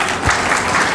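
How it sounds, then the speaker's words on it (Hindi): A short, loud burst of dense crowd clapping from an audience at an Indian equality-themed gathering. "जोरदार तालियां सर के लिए"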